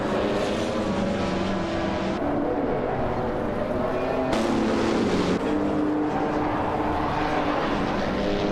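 Race cars in a video game, a close fight for the lead on the final lap, with continuous loud engine roar and shifting pitch as cars pass, steady throughout.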